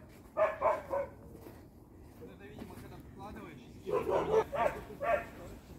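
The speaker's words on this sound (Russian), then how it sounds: "Песик Барбосик лает" A village dog barks from a distance, two bursts of several quick barks separated by a pause, with faint outdoor background between them.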